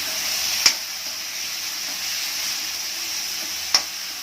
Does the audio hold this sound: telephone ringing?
no